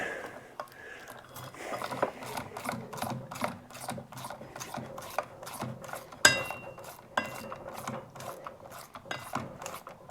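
A tool being screwed into a Massimo MSU 500/700 utility vehicle clutch, making a steady run of quick ratcheting clicks, close and evenly spaced, with a few light metallic knocks.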